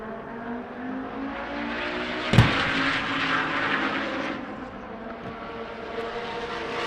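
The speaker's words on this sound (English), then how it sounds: "the car that can be heard round the world, Cable Rosenberg in his twin-turbo V10 Viper." A twin-turbo V10 Dodge Viper race car roars at a night racing event, a loud sustained engine drone with a sharp bang-like burst partway through, then continued high-revving roar fading slightly.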